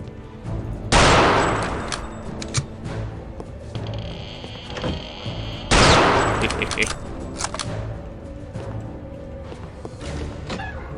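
Rifle gunfire from the video game Return to Castle Wolfenstein: two loud, sharp shot bursts roughly five seconds apart, each with a decaying tail, over a busy game soundscape of thuds and background noise.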